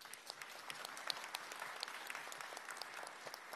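An audience at a Busan civic event applauds the city council chair, a dense, even round of clapping with crisp individual claps popping out, heard at a low level throughout.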